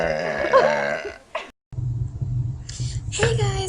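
Loud, close, low, gurgling burps come from a woman, in two bursts split by a brief silence, with a short voiced sound between them.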